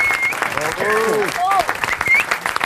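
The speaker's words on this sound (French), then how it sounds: "Vous pouvez applaudir Marc-Antoine Lebré." A large radio-show studio audience claps steadily in dense, sustained applause, with a few voices and whistles rising above the crowd.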